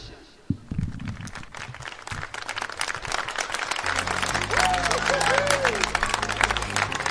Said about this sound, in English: Can we have the applause a little louder next time?